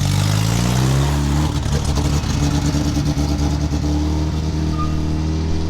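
A Suzuki Samurai engine idles and revs close by as the vehicle is driven into a shop, a loud steady rumble with a rattly, clattering patch in the middle.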